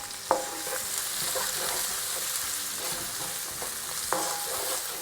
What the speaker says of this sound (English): Next, some red chilies. Next, the onions. Now cook for a couple of minutes until they soften up.